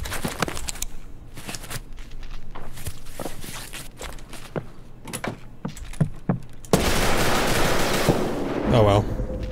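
Gunfire in the game Escape from Tarkov: a run of sharp shots and short bursts, some near and some more distant, mixed with footsteps and movement, ending in a louder dense burst.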